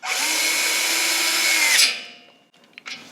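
A power tool whirs loudly and steadily for nearly two seconds while tightening the gas pipe flange bolts on a Weil-McLain SlimFit boiler, then winds down, followed by a few soft clicks and handling sounds.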